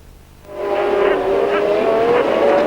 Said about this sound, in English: As Lauda goes past the Williams, and he is definitely in 4th position.